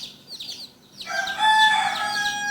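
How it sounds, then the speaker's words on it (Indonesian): A chicken clucks softly in short bursts, then breaks into a loud, sustained crowing squawk, close by and alone. "sementara ayam ini terus teriak-teriak minta tolong"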